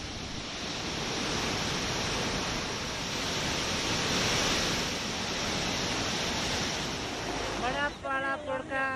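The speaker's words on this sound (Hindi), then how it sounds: "यहां रावी नदी के साथ साथ कई पहाड़ी नाले भी उफान पर हैं।" The Ravi river in flood after heavy rain in Chamba, Himachal, a loud, continuous broadband roar of rushing water, steady throughout, with a voice briefly rising over it near the end.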